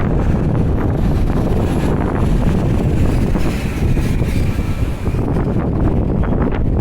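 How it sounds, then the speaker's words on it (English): Strong wind buffets the microphone outdoors near a construction area by the water, a loud, continuous low roar that surges and eases slightly throughout, with no voices. "it's extremely windy down here"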